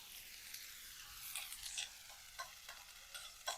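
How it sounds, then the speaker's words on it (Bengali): Onion paste frying lightly in a pan for chicken korma, a steady soft sizzle with scattered stirring scrapes and a few sharper clicks of the utensil, close and moderately quiet. "এটা আগে পেঁয়াজটা হালকা একটু ভেজে নেব।"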